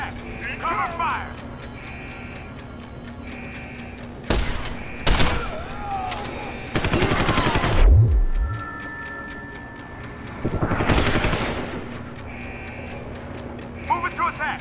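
Gunfire in the video game Deus Ex Human Revolution, several sharp bursts and single shots spread across the clip amid combat noise, with voices calling out over the action.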